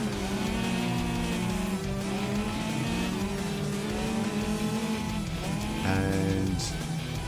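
Ford and Toyota rally cars race in the WRC Generations video game, engines droning steadily with rising and falling revs and gear shifts, loud and continuous throughout, with a sharp rev change near the end and no talk over it.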